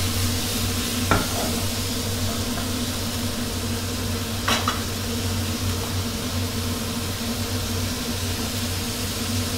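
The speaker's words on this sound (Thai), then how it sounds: "ใช้ไฟแรงๆเลยนะครับอันนี้เราจะผัดให้น้ำเขาระเหยด้วยครับ" Squid tentacles stir-fried with holy basil in a wok over high heat give a steady close sizzle and roar, with a couple of sharp scrape accents from the spatula.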